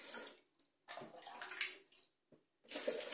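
Water is scooped out of a toilet bowl with a cut-off plastic bottle, giving short bursts of splashing and sloshing separated by quiet pauses, close and fairly soft.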